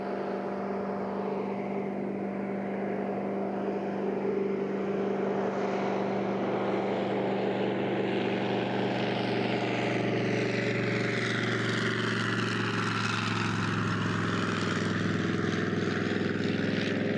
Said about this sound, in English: let you soak up the experience of the sound and the sight of this historic Jenny